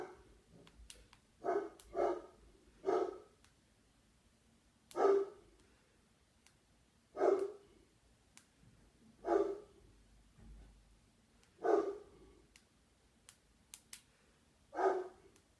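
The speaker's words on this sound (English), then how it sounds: "Don't mind my dog, he's barking over the mail." A dog barks in short, fairly loud bursts, single and double woofs spaced a second or two apart over about fifteen seconds, with quiet gaps between them and no talking.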